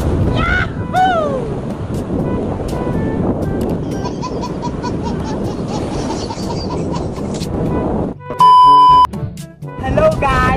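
A banana boat ride on the sea: loud wind buffeting the microphone and churning water and surf noise, with excited voices talking and shouting over it and a sharp electronic tone near the end.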